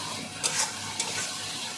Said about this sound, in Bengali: এই মশলাটাকে ভালোভাবে কষিয়ে নেব।